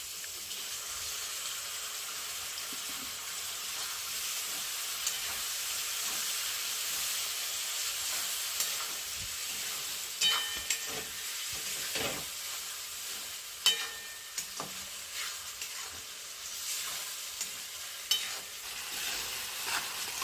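Tomatoes hit a pan already frying peas, onion and green chili, giving a steady sizzling hiss with intermittent scraping stirs and clacks of a spoon, close and continuous.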